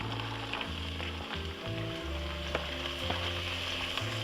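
Mirepoix of celery, carrots and onions sizzles in a pan with chicken, giving a close, steady frying crackle over low hum, with scattered pops and stirring scrapes.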